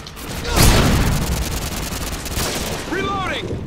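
A flashbang grenade goes off in a Modern Warfare 2 Team Deathmatch match: a sharp loud burst near the start followed by a sustained ringing hiss, with chirpy game effects near the end.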